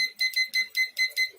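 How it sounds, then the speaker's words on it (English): A kitchen timer alarm beeps in quick repeated pairs of shrill electronic tones, six bursts in a steady rhythm, close and clear with no talking. "Okay, timer is ready. It's on."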